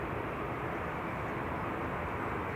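An EasyJet Airbus A320 departing Manchester Airport for Amsterdam, a continuous, even jet roar with broad rumble and hiss that stays steady from start to finish.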